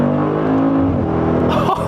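A car accelerates hard, its engine note climbing and straining loudly for about two seconds before a brief shift in pitch, close and dominant with no talk over it.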